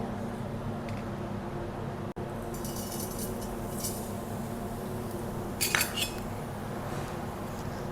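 Vermicelli roasting in ghee in a pan over a medium flame, with a spoon clinking and scraping against the metal over a steady low background hum; no one speaks.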